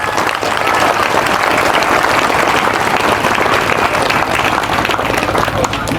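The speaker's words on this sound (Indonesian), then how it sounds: "Tepuk tangan untuk para santri." A crowd applauds loudly and continuously, dense clapping filling the whole stretch without pause.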